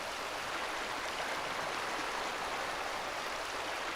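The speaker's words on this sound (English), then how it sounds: "And then just a running water sound down here." Running water in a Farming Simulator 22 forestry logging map flows as a steady, even rushing hiss, like a stream, filling the whole stretch without a break and with no talk.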